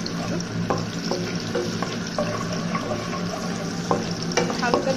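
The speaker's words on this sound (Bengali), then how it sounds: "তেলটা মোটামুটি একটু গরম হয়ে আসলে আমি এর মধ্যে মাঝারি আঁচে 2টা পেঁয়াজ দিয়ে দেবো।" Chopped onions frying in moderately hot oil, giving a steady close sizzle with occasional stirring clicks throughout, no voices.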